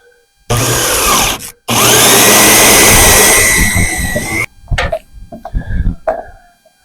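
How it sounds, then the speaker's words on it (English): A power drill whirs loudly in a long sustained run after a brief burst, then stops, followed by a few scattered knocks and handling sounds. "That drill won't run on solar power."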